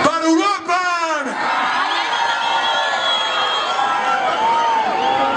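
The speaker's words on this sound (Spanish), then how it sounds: "¡Aplausos para Uruapan!" Crowd at the 2010 Marquesada 'Chica Sexy' contest in Salvatierra cheers and whoops for a contestant. An announcer's voice rings out briefly at the start, then dense crowd noise carries on.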